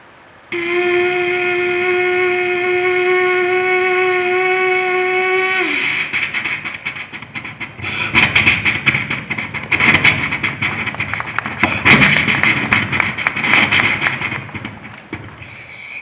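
A mimicry performer at the Kerala State School Arts Festival imitates a train passing a level crossing: a long horn-like tone, then rapid rhythmic clattering and rattling that rolls on for several seconds.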